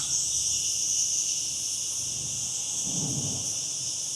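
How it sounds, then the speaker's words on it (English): Dense, steady insect chirring fills the high range throughout, a constant shimmering buzz of crickets near the Caminito del Rey in Spain, with a brief low rumble partway through. "You hear those crickets?"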